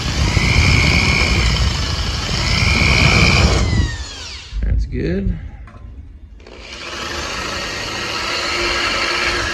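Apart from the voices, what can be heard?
drill boring through layers of sheet metal for plug welds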